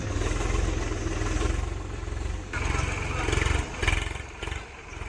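A diesel tractor engine chugs steadily while ploughing a farm field, a low rumbling drone with faint clatter that dips and swells, heard close and loud under someone talking.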